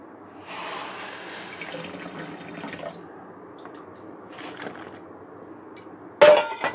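Cooking water poured off boiled elephant foot yam seasoned with turmeric and salt, a splashing pour over the first few seconds, then quieter trickles and a sharp clink of a pot or utensil near the end.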